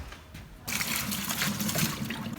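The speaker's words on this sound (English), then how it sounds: "We're gonna wash these tomatoes." Running water starts abruptly and keeps gushing as tomatoes are rinsed under a kitchen faucet, a close, steady splashing for about two seconds.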